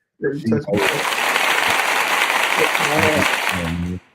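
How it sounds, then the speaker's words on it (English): Studio audience applause bursts in on a talk show panel, loud and steady for about three seconds before stopping abruptly, with brief voices at the start and more talking over the last moments. "give her a round of applause"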